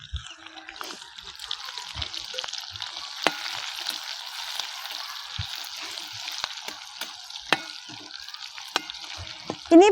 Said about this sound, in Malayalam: ആദ്യം നമുക്ക് ഈ പച്ചമുളക് എണ്ണയിലിട്ട് വറുക്കാം